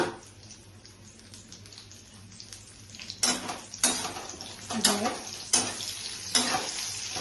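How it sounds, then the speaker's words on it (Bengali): Spiced okra and paneer, with cauliflower, turmeric, salt and Kashmiri chilli, hit hot oil and fry, producing several loud, close bursts of sizzling and stirring after a quiet start. "ঠিক আছে, তেল তো গরম হয়ে গেছে, ফ্রাই করে নিচ্ছি।"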